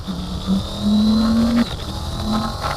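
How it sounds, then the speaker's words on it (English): A 2023 Triumph Tiger 900 Rally Pro motorcycle engine pulls loud and close while riding on the North Yorkshire Moors, its tone rising through the revs before easing off under wind rush. "it's pretty awesome riding this thing as well, Triumph's Tiger 900 Rally Pro"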